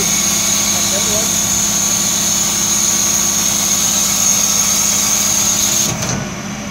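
A Dennis Eagle recycling truck's packer mechanism runs with a steady mechanical hum and whine over the engine, then cuts off abruptly near the end, leaving a quieter idle.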